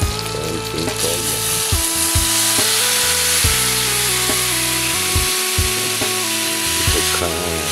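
Sautéed vegetables (ginisang gulay) sizzle loudly and steadily in a hot pan as a little soy sauce is added, with the frying hiss continuing for the whole stretch.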